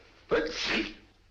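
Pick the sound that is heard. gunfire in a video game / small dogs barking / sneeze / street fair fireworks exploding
sneeze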